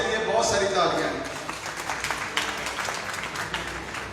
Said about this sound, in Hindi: अबू मसूद अशरफ साहब और ग्रीन हार्ट्स के लिए बहुत सारी तालियां हैं।